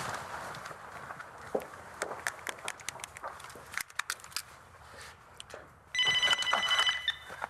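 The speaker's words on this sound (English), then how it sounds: "Natalie, thank God you answered your phone." A telephone bell rings loudly in rapid repeated bursts near the end, following a quieter stretch of shuffling footsteps and movement indoors.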